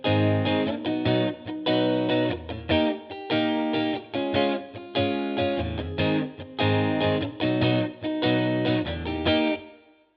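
Soul-style guitar plays the chorus of a song with a light overdriven, chorused tone. Rhythmic chord stabs and short riffs repeat in a steady groove with no talking.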